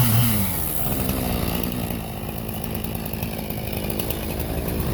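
Chainsaw fitted with an Oregon brand chain cutting a branch, a loud continuous high-revving buzz held steady throughout, close up with no talk.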